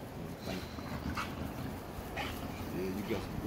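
A dog whimpers and gives a few short yips close by while people talk over it.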